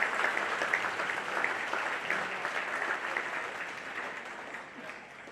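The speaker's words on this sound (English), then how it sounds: "Please give a well-deserved round of applause to the individuals," Banquet guests at a county sports hall of fame induction dinner applaud in a steady, fairly distant round of clapping that slowly fades, with faint murmuring underneath.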